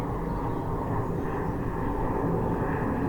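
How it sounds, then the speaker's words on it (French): An airplane flying over the Villeray neighbourhood produces a loud, steady jet rumble and roar that fills the air continuously from above. "Vous voyez un autre avion. Vous entendez? Un autre avion."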